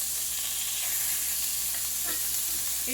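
Hamburger steaks sear in a hot pan with a continuous loud, hissing sizzle, close up, with a few faint scrapes of a utensil near the end.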